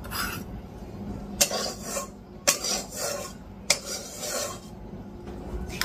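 A metal spatula or utensil rasps against a metal kadai (wok), giving three sharp scraping strokes at steady intervals with duller rubbing between them, close and moderately loud with no talk.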